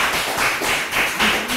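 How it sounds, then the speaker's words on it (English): A small group at a live-streamed Talentmine event claps in short, evenly spaced bursts, close and moderately loud, with a brief voice near the end. "Please round of applause."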